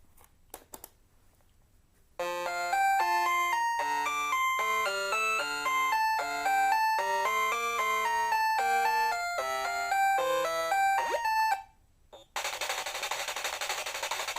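Bible Adventures NES game music plays from a Hyperkin RetroN 2 console: a bright chiptune melody of square-wave notes in quick rhythmic steps, starting after a brief quiet lead-in and ending with a burst of loud static-like noise.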